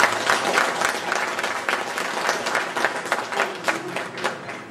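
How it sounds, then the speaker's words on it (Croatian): Sustained, loud applause from a crowd at a ceremonial academy event in Željezno Polje, many hands clapping steadily throughout with rising and falling intensity. "nagradimo još jednim velikim aplauzom našem šovu"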